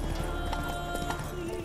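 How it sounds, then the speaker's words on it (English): Horse galloping in the video game The Witcher 3, steady rapid clip-clop hoofbeats with an occasional whinny over constant game ambience, close and continuous. "Oh, there goes my horse."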